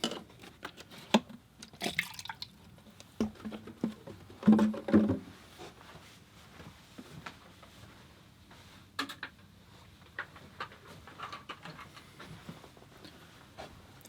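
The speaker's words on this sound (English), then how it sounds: "I'm going to change the water here, and I'm going to add some more fresh, clean water." Water in a watercolor painting jar is poured out and refilled with fresh water, trickling and dripping close by with small splashes and clinks of the jar.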